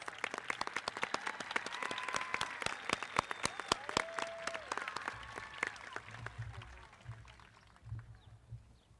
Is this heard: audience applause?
yes